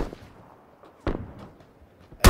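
Sharp gunshot cracks from an SKS rifle in the battle royale game PUBG: Battlegrounds, a few separated reports at moderate distance, the last one louder and closer.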